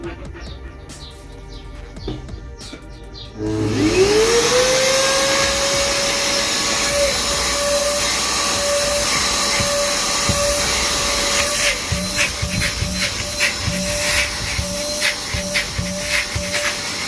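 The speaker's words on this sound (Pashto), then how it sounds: "اوس دا یو دانه جارو ده، دا ورباندې ګورو." A vacuum cleaner running off a home solar inverter switches on after a few seconds of background noise, its motor spinning up to a loud, steady whine that holds for the rest of the clip.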